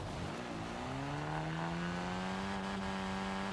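A high-revving supercar engine in Forza Horizon 5 whines steadily upward in pitch, loud and continuous, accelerating hard with tires faintly squealing.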